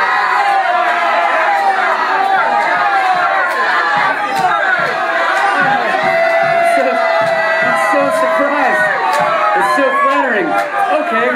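A live concert crowd cheers and shouts continuously at the end of a song, a dense roar of whoops and chatter that stays loud throughout, with voices mixed in.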